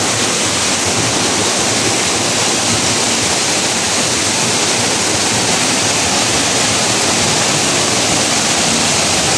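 A waterfall in a forest pours in a loud, constant roar of rushing water, steady and close with no breaks or voices.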